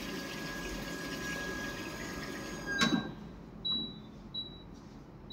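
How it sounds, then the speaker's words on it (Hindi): Water rushes loudly from a Queo fully automatic toilet seat as it flushes. The steady, close hiss stops abruptly after about three seconds, and a few faint electronic beeps follow. "अभी फ्लशिंग ले लेगा"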